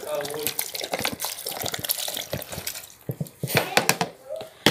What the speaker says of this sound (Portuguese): agora vamos botar um copo de água